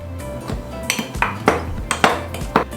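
Wooden spoon knocking and clinking against a glass while muddling a moist cocktail mixture before bourbon goes in, a series of about seven sharp, close taps in an irregular rhythm with faint ringing.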